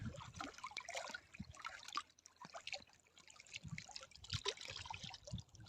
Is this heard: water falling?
yes